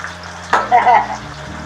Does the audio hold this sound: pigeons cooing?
no